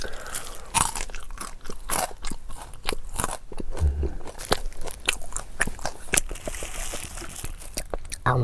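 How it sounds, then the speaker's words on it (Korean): Close, crisp crunching as someone bites and chews through a giant fish-shaped bungeoppang pastry with no red bean filling, with repeated crackly bites and rustling between them. "꼬리 부분이 제일 바삭바삭하고 맛은 잘 모르겠어요."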